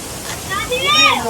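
A waterfall at Erachilpara, Marayoor, running with low flow, gives a steady close hiss and splash, with a voice talking over it.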